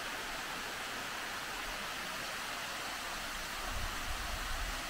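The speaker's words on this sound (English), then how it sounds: "So here's the waterfall, and you can see how high we are." Hot spring waterfall in Shiretoko National Park, a steady broadband rush of falling water heard from a distance, even and continuous throughout.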